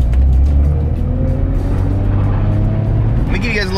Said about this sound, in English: Let me give you guys a little exhaust clip